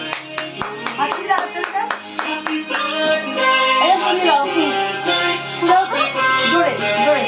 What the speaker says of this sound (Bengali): হাততালি হাততালি হাততালি